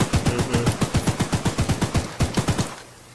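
A rapid string of about twenty sharp gunshots rings out in the Woo Woo Train video game, steady and evenly spaced, loud and close, then cutting off abruptly.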